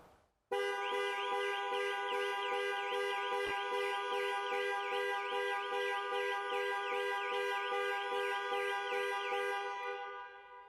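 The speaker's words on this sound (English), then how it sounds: "The final button is a panic alarm." A loud, continuous electronic panic alarm on a Jaguar XE wails with a rapid warbling pulse, sustained for about ten seconds before tapering off.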